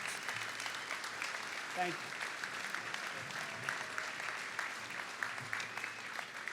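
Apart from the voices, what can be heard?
audience applause at high school graduation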